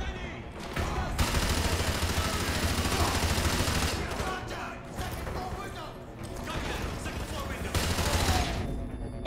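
Sustained automatic gunfire in Call of Duty: Modern Warfare 2 Remastered, dense rattling bursts with short lulls, up close, with someone talking over the shooting.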